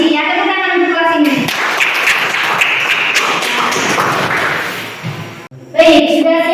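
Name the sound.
clapping for the class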